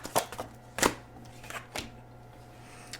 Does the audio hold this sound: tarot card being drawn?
yes